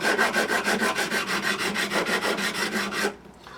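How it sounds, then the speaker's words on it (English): Metal file rasping back and forth across the frets of a Yamaha F310 acoustic guitar, about a dozen quick, even strokes close up and loud, cutting off abruptly near the end. "files on the forward stroke and on the backward stroke"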